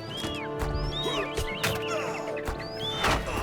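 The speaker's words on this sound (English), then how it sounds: "I'm on a horse" Horse hooves and whinnies from a horseback ride in The Lord of the Rings Online, set against a busy mix of bird chirps and ambient game sounds, steady and moderately loud throughout.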